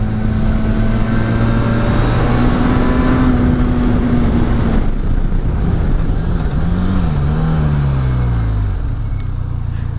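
A Benelli TRK 502 adventure motorcycle rides off-road and up onto a sidewalk, its engine droning loud and close with rising and falling revs and steady wind and road rumble underneath.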